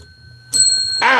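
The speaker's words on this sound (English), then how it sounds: "I'm going to smash the bell with my nose." A bell struck hard by a person's nose, giving a sudden loud metallic ring that sustains and then swells into a second bright wobbling tone, close up and alone with no speech.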